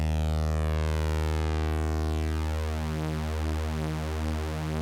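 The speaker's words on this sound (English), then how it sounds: "one of the really cool things about analog synths is the ability to detune these waveforms" Detuned analog synth oscillators sounding a single sustained tone whose slightly mistuned waveforms beat against each other, producing a slowly swirling, phasing shimmer that grows more pronounced over several seconds, loud and alone.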